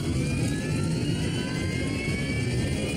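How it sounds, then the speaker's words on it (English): DC-10 jet airliner engines roar steadily and loudly on approach to a runway, a continuous dense rumble with a whining high edge and no break. "The DC-10 with 67 people aboard roars toward the runway"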